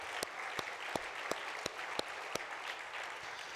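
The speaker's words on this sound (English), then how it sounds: "Could you give a round of applause to Nick and his work?" Sparse, faint applause at an industry opening ceremony, heard as a few distinct hand claps in a slow, regular rhythm over a quiet room hum.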